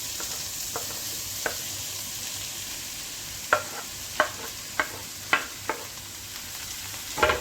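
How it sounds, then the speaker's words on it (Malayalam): Chopped tomato sautéing in a pan for paneer butter masala, a soft steady sizzle with a series of sharp spatula scrapes and taps against the pan at irregular intervals, close and alone. "ഇതിലേക്ക് നമ്മൾ അരിഞ്ഞ് വെച്ചിരിക്കുന്ന ടൊമാറ്റോ ഇട്ട് കൊടുക്കാം"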